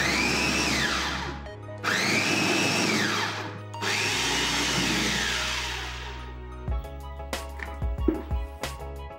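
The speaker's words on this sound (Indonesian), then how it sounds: "saya menggunakan chopper serbaguna dari Mitochiba" A Mitochiba multipurpose electric chopper whirs through ingredients for homemade sardines in three loud, close motor bursts with brief pauses, then winds down into scattered clatter and knocks.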